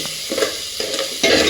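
Green chillies fry in a pan with a loud, bright sizzle, broken by a few stirring scrapes and a sudden surge of crackling near the end.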